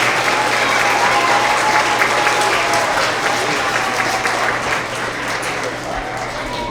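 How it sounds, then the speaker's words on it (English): Young children at a kindergarten through second grade school award assembly clapping together, a dense, loud, sustained round of applause that eases slightly toward the end. "let's give them all a big round of applause once again"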